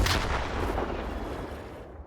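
A second RPG-7 shot in the video game S.T.A.L.K.E.R. 2 lands as a heavy booming blast followed by a rolling tail that slowly fades.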